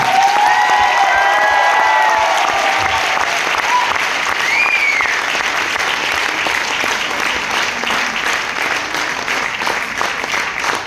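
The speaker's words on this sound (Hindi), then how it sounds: "चेयरमैन के लिए जोरदार तालियां।" A large corporate audience in Faridabad gives the company chairman a hearty round of applause, with dense, steady clapping and some cheering that gradually softens toward the end, a few whistle-like tones rising early on.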